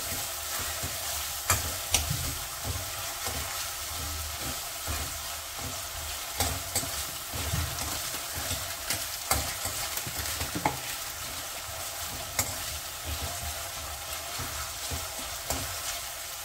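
Chopped tomatoes frying in a pan for dal bati make a continuous, moderate sizzle, broken by frequent sharp clicks and scrapes as a spatula stirs them, close up, with no one speaking.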